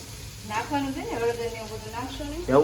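Sliced onions cooking in a pan for Kathiyawadi rotla shaak, a steady soft sizzle running beneath a voice that talks throughout.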